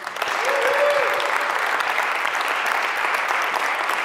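Steady applause from a crowd, dense and sustained throughout, with a faint tone briefly audible early on.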